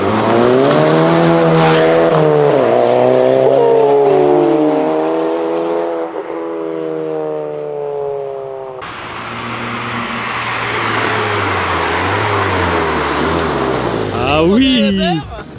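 An Audi R8 engine revs through a newly fitted exhaust, loud and close, with a deep roar climbing and falling in pitch, then a harsher raspy blast and a sharp rising rev at the end.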